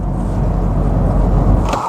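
Vauxhall Astra J engine labouring in sixth gear at low revs, a steady deep drone and rumble from inside the car, loud and constant with no talk.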